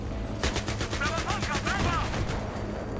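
Rapid bursts of automatic gunfire in the Battlefield 3 single-player campaign, a dense rattling volley of close, loud shots running for about two seconds over steady game background noise.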